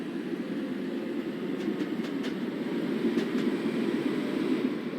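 A passenger train in the Train Simulator game rolls steadily along, its low, even rumble held at a quiet, constant level with faint rail clicks now and then and no talking.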